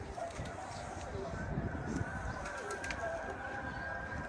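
Caged pigeons coo softly and repeatedly against a steady, noisy background, with faint voices mixed in.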